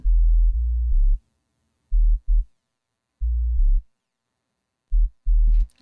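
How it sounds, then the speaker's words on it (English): A pure sine-wave sub bass from an Operator synth in an experimental hip hop track, very low and loud, playing short sustained notes in bursts with gaps of silence between them. "I'm using operator, just a sine wave."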